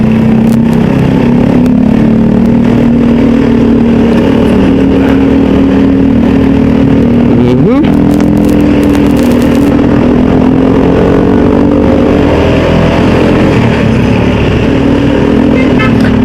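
A motorcycle with an open pipe exhaust revs loudly and close by, its steady throbbing idle rising in a sharp rev midway before settling back into a loud, continuous engine drone.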